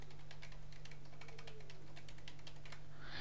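Card number keyed in on a computer keyboard while filling an online exam form, a steady run of quick close key clicks over a constant low electrical hum, no talk.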